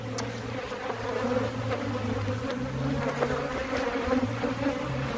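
Honeybees and drones buzz steadily inside an open beehive full of pollen and honey, a dense close hum with drifting higher drone tones throughout.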